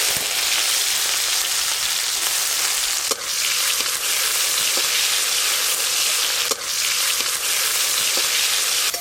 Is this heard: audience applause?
no